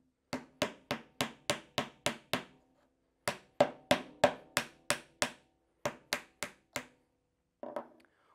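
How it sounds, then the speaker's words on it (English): Sharp hammer taps on a wooden dowel in quick steady runs of about six to eight strikes, separated by short pauses, close and clear with no talking. "I'm going to lightly tap it down into place with my hammer"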